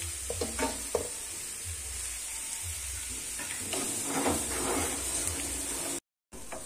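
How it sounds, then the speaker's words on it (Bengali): Grated carrot frying in ghee for carrot halwa over a medium-to-high flame, a continuous close sizzle and hiss with scattered scraping stirs, cut by a brief dropout near the end. "গাজরটা ভালো করে ঘিতে ভাজতে থাকবো মিডিয়াম টু হাই ফ্লেমে"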